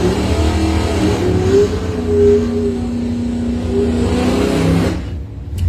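Doorslammer drag race cars, including a '76 Camaro, roar steadily at high revs with a loud, sustained engine drone that shifts in pitch, then cuts off abruptly near the end.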